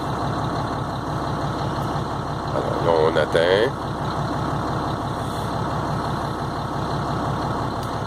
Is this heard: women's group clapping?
no